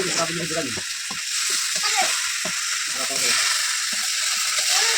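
Puti fish and mixed vegetables sizzle and fry in a pan while being stirred with steady scraping strokes. A voice talks intermittently over the cooking.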